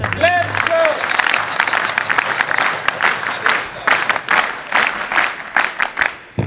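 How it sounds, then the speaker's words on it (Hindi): Audience applause at a scout and guide gathering addressed by a yoga guru, dense clapping rising in bursts, with a brief voice at the start. "ताली तुम थारी स्टाइल में बजा लो"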